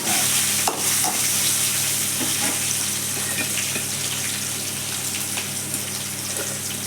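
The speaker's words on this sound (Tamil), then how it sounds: "காஞ்ச மிளகா கருவேப்பிலை தாளிச்சு தேங்காய் சாதம்" Dried chillies and curry leaves sizzle loudly in hot oil as a tempering for coconut rice, a dense, continuous frying hiss close to the pan with a few sharp crackles and no voices.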